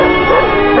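A dog, brought in as a sniffer dog after a night-time theft at a collector's house, barks and yips loudly and continuously in a close, dense burst from a dubbed film scene.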